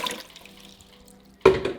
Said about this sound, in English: I'm going to add 12 cups of water.